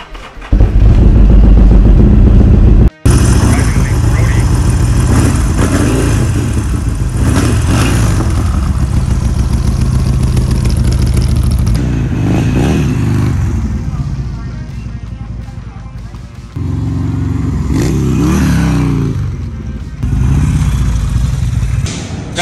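Harley-Davidson Sportster motorcycle engine running loud and close, with a deep rumbling idle rising into throttle revs and falling back, steady throughout with a brief cut; a voice talks at times over the engine.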